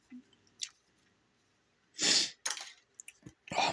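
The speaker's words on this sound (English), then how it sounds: "All right, my sneezing fit's over." A person sneezes in a quick fit, several loud bursts close to the microphone with sharp breaths and short pauses between them, in an otherwise quiet room.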